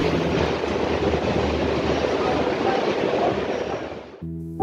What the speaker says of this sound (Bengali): ট্রেন ঢুকছে কলকাতা স্টেশনের 1 নম্বর প্ল্যাটফর্মে।